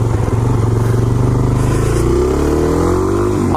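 A motorcycle revs up hard and loud, then brakes, and a rising engine whine gives way to a scraping drag from the rear tire. The engine is close and there is no talk.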